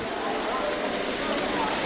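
Steady rain pours down in an even, dense hiss, holding constant for the whole stretch without breaks or distinct drops standing out.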